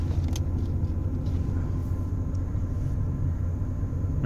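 A 1987 Chevrolet Camaro IROC-Z with 44,000 miles shifts into reverse and rolls, giving a steady low engine and road rumble that holds evenly throughout, with no talk.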